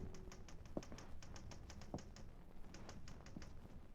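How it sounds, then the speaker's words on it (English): Typewriter keys tapping in a steady, close rhythm for a radio drama effect, with occasional heavier clacks standing out among the lighter strikes over a faint background hiss. "One night, Laurie was typing a story in her room"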